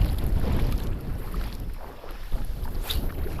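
Strong wind gusting across an open lake around a small fishing boat in cold, wet weather, with steady low buffeting and rumbling mic noise throughout, loud and close, with no talk.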